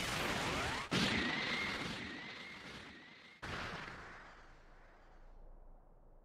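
A loud, sustained blast of roaring energy with a whistling tone from the Special Beam Cannon attack in the video game Dragon Ball: Sparking! Zero, cut by two sharp bursts, then slowly fading away.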